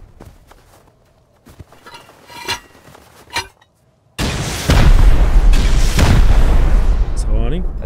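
Rocket explosions in the survival game Rust: after a few quieter thumps and footsteps, a sudden loud blast erupts and rolls into a sustained, heavy roaring rumble of further detonations, with voices faintly mixed in.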